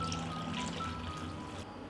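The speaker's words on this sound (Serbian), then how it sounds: "U šerpu sipam hladnu vodu do visine poklopca." Cold water is poured into a cooking pot lined with a cloth and holding glass jars for canning, a steady close splashing stream running without pause for about two seconds.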